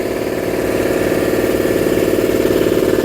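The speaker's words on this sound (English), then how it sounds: "I'm going to sit here till it turns off, making one of the most boring YouTubes ever, just to show how awesome this compressor actually is" An air compressor runs steadily in a garage, a close continuous motor drone with a pulsing mechanical hum and no pauses or voices.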